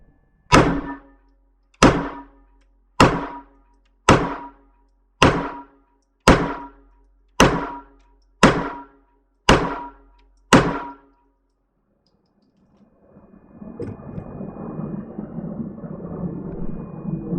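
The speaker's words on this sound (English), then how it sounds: "Here you go, 10 shots from the Ruger Security 380, same CCI Blazer ammunition." Ten evenly spaced shots from a Ruger Security 380 pistol firing CCI Blazer ammunition, each a sharp close crack with a short decay, followed by a stretch of quieter rustling ambience.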